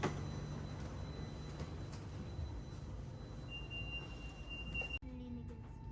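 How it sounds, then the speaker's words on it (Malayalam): A train pulls into a platform at KL Sentral station in Kuala Lumpur, heard as a faint, steady rail rumble with a thin high whine that drops off near the end. "അധികം താമസിക്കാണ്ട് ഞങ്ങൾക്ക് പോകാനായിട്ടുള്ള ട്രെയിൻ എത്തി."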